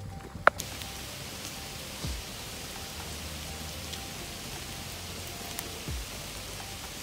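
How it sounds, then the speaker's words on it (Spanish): Rain falls steadily during a mountain hike, an even hiss of drops on surfaces all around, with a sharp tap near the start and a few faint knocks. "ya como que la lluvia bajó un poco"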